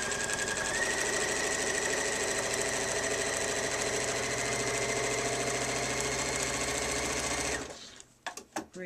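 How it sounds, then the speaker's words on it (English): A sewing machine stitches down a ribbon on a quilted collage piece, running steadily and close for about seven and a half seconds before stopping, followed by a few brief handling clicks. "Then I take it to the machine and I'm just going to quickly stitch down that ribbon."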